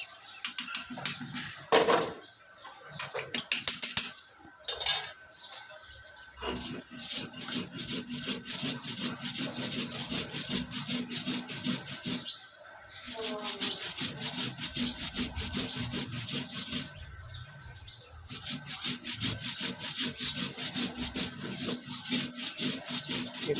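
Black cumin seeds ground into a paste on a shil pata grinding stone, a steady rhythmic scraping and rubbing of stone on stone in close repeated strokes with brief pauses between bursts.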